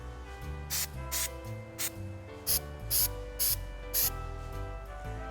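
A spray product is sprayed in a series of short hissing bursts onto an evergreen gnome porch pot, about eight puffs with brief pauses, close up over faint background music.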